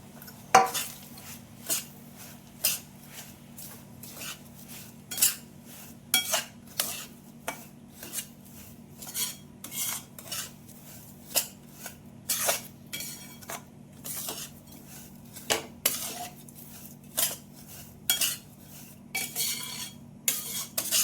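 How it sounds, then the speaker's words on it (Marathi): A spoon scrapes and clinks against a pan while roasted semolina is mixed in for an upma premix. Repeated close, metallic knocks and scrapes come at a steady, uneven rhythm over a low background hum. "आणि आता आपला भाजून ठेवलेला रवा यामध्ये आपण मिक्स करूया"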